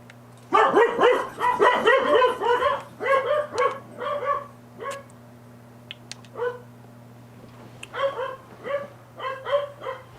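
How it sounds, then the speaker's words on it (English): Several dogs bark repeatedly in quick overlapping bursts, loud and close, with pauses between volleys and a steady low hum underneath. "my dogs are about to bark"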